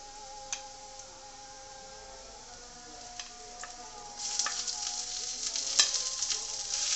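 Onions browning in hot oil sizzle steadily as ginger garlic paste goes into the pan, the frying growing louder and busier halfway through with small pops and ticks; potato curry cooked with mutton fat.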